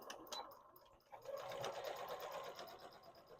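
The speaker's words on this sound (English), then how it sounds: "practice some of our straight stitches again" A sewing machine runs straight stitches in a continuous steady whir that starts after a brief pause, close and fairly quiet with no talk over it.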